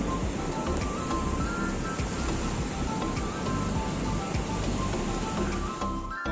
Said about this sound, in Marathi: डॅमच्या वरनं पाणी चाललेलं आहे फुल पाणी एकदम कडक भरले पाणी लाटा बिटा येतात